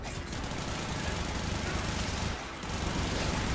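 Dense, continuous gunfire in the sci-fi shooter Warframe, a loud, steady wash of rapid shots with a brief dip partway through.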